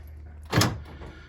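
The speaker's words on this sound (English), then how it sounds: "we'll just go on the key to lock, and the button's gone down" A Jeep Patriot central locking actuator fires inside the door with one short, solid clunk, close and alone against a quiet background.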